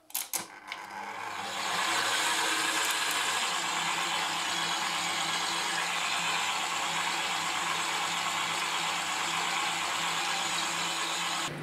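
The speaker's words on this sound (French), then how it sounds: "Alors comme ça, je vais mettre mon pétrin en marche" A stand mixer kneading oat porridge dough runs with a steady, loud mechanical whir and grinding hum, starting with a few clunks before settling into a constant drone with no talk over it.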